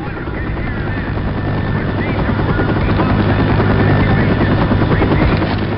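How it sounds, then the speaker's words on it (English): Helicopter in the zombie shooter game Left 4 Dead, a loud, steady rotor thrum and engine roar that holds throughout and swells slightly toward the end. "Mr. Helicopter, did you see us?"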